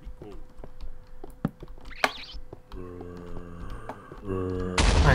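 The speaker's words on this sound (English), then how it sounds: "I hear explosions!" Explosions in the Minecraft video game go off as several sharp, loud bangs in an obsidian maze, followed by a sustained rumbling blast at the end, with game sounds in between.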